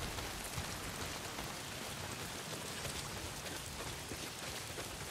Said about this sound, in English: Well, not if it's pissing down rain.